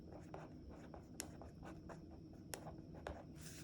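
A pen scratches across paper while underlining, quiet soft strokes with a few sharper taps, faint and close over a steady low room hum.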